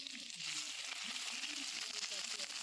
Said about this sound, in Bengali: হালকা করে ভেজে নেওয়ার পর দিয়ে দেবো পেঁয়াজ কুচি আর কাঁচা লঙ্কা কুচি